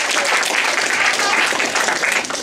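Live comedy-show audience applauding a stand-up comedian, a dense, steady wash of clapping that stays loud and close for the whole stretch without a break.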